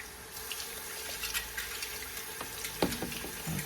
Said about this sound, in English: Turn the water on and hold the utensils under the faucet.